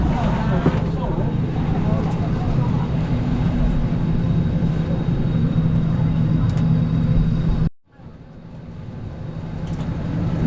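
Steady loud cabin hum of a China Eastern airliner sitting at the gate after boarding on a Seoul to Qingdao route, a constant drone that cuts out sharply near the end and slowly returns.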